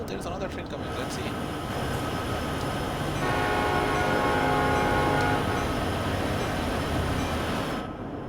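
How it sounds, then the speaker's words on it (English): In the Train Sim World 4 railway game, another train rolls past alongside a 30-car freight train, a loud continuous rumble and clatter of wheels that builds and then tapers, with a steady tonal drone over it. "Oh, there's another train coming."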